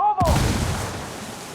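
A frag grenade explodes in the video game Ghost Recon Wildlands: a sudden heavy boom after a brief whistling tone, then a rumbling decay that trails off over a second.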